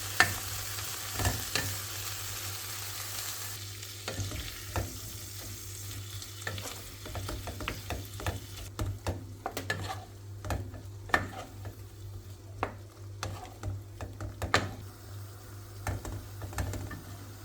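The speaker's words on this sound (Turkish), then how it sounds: "Üzerine 125 gram tereyağı, bir miktar tuz ilave edip et pembeleşene kadar kavuruyoruz." Meat sizzles and fries in butter in a pan for Turkish kavurma, with a steady crackle broken by scraping and stirring clicks throughout.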